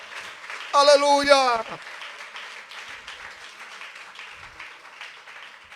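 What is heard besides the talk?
applause for the King of Kings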